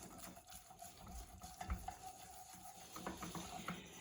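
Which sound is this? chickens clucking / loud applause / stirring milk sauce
stirring milk sauce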